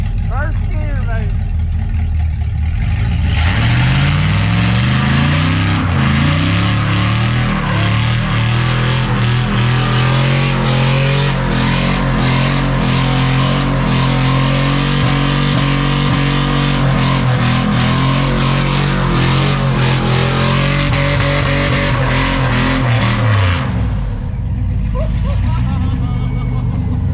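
A car with a welded differential accelerates hard in first gear, its loud engine revving up in a rising, sustained roar held for about twenty seconds before cutting off, close to the listener, with voices around it.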